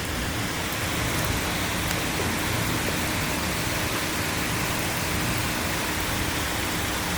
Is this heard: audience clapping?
no